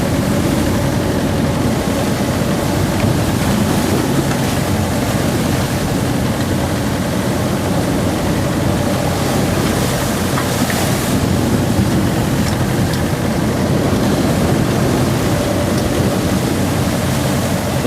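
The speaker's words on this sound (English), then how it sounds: "The waves are a little more humped up here because of the shallows around the island. So they're quite short and choppy." Short, choppy ocean waves humped up by shallows around an island slap and spray against a sailboat's bow, a loud continuous wash of surf and wind noise with no letup.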